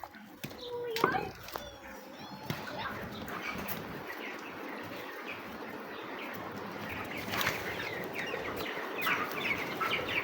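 Chickens cluck and rustle on a farm at water-giving time, with a brief burst of wing flapping near the start and a steady flock murmur throughout, while a person talks over it.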